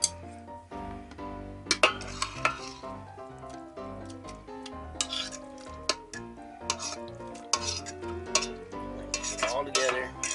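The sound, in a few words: stirring BBQ chicken and sauce in the Instant Pot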